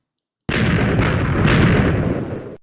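A Minecraft creeper explodes in a video game, a loud sustained rumbling boom that starts abruptly and rolls on for about two seconds before fading.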